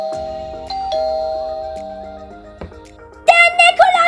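A cartoon doorbell chimes in a Toca Boca game as a Saint Nicholas figure arrives at a house door, with a ding-dong tone that rings and decays, then a bright burst of game music near the end.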